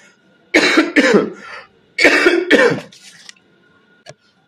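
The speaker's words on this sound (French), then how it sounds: "Excusez-moi, j'étais là toujours à tousser." Two loud bursts of harsh coughing up close, each a pair of rough hacks, followed by a faint throat sound.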